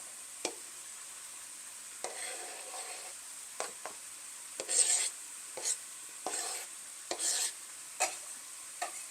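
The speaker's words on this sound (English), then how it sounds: "now we're going to cook the vegetables down" Vegetables cook down in oil in a hot pan for a paleo breakfast, giving a quiet, soft sizzle broken by brief scraping stirs and light clinks of utensil against pan.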